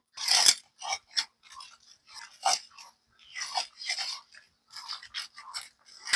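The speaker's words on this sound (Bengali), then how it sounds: "এখন আমি সেই ডালগুলো একটা চামচের সাহায্যে বেটে দেব" A spoon mashes lentils for ghugni in a series of short, irregular squelching scrapes and soft crunches close by, with brief pauses between strokes.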